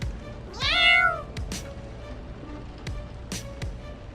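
A single clear cat meow rises and falls near the start, followed by a few soft taps and rustles in a quiet room.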